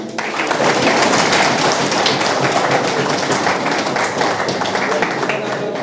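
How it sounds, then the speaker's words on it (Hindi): A roomful of students claps loudly and continuously for Manu during a Saturday class session at Gurukul, a dense, even wash of hands lasting nearly six seconds. "मनु के लिए ताली बजा दीजिए"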